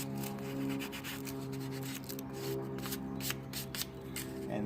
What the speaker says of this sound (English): take a 400 grit sandpaper and just, knock the burrs off, like so